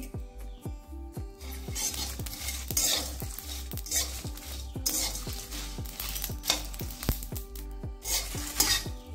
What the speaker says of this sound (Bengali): প্রথমে শুকনো লঙ্কাটাকে 1 মিনিট ভেজে নিচ্ছি